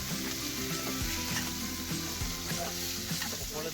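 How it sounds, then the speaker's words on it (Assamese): Chicken pieces fry and sizzle in spices in a pan over a high gas flame for a curry with curry leaves, with a steady loud crackle and occasional scraping stirs, and no talking. "আৰু গেছটো হাই ফ্লেমত দি মাংসখিনি ভালদৰে লৰাই থাকিব, যাতে মছলাখিনি গৰম হৈ জ্বলি নাযায় বা লাগি নাযায়।"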